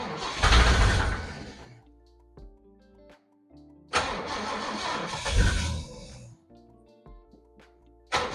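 A Ford XC Falcon engine cranks twice in long bursts and tries to catch without starting, loud and close, with quieter mechanical ticking and clinks between attempts.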